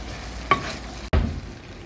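A spoon scrapes through thickening coconut syrup in a pot for Jamaican coconut drops, two short stirring strokes with a faint bubbling sizzle underneath, close by.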